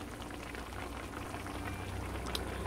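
Liquid boiling in a pot while tofu cooks, a steady close bubbling hiss with soft rolling pops that holds even throughout, with no voices.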